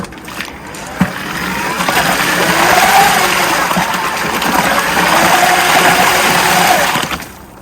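A power mixer churns plaster and water in a bucket, a steady loud whirring drone that starts after a brief knock and runs continuously before cutting off near the end.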